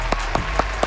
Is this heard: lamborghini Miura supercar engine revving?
no